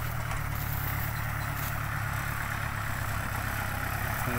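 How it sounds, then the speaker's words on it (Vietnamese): An old Vũ Hải tractor fitted with a 2402 engine and a four-disc plough, used for over ten years, idles with a loud, steady, even rumble close by and no talk. "nghe tiếng máy nổ vẫn còn êm."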